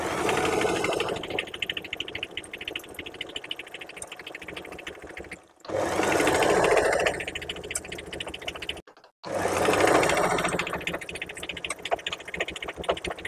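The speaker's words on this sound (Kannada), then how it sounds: "ಅದೇ ಫ್ಯಾಬ್ರಿಕ್ ಅನ್ನ ಈ ತರ ಫೋಲ್ಡ್ ಮಾಡ್ಕೊಂಡು ಜಿಗ್ಜ್ಯಾಗ್ ಸ್ಟಿಚ್ ಮಾಡ್ತಾ ಹೋಗ್ತಾ ಇರುತ್ತೆ" A Singer home sewing machine zigzag stitches folded fabric with a steady, fast mechanical whir and clatter, close and loud. It runs in three long bursts separated by brief pauses.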